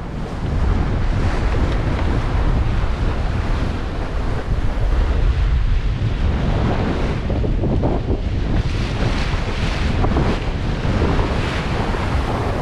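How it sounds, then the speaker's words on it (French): Strong wind of about thirty knots roars steadily over crashing waves at sea aboard a sailboat between Martinique and Guadeloupe, loud and unbroken, with no voices. "on doit avoir une trentaine de nœuds de vent"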